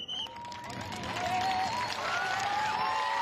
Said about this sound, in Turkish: Evet şimdi bütün yaz spor okulları öğrencileri alkışlasın.